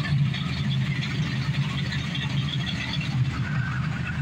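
A 1968 Dodge Dart with a 426 Hemi V8 rumbles with a deep, loud, throaty engine note that holds steady as it pulls away, close by, with no voices over it.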